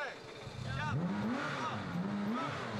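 A Porsche 997 GT3 race car restarts at a pit stop and pulls away, the engine revving up with a rising pitch. The sound is faint and distant, with a voice talking over it.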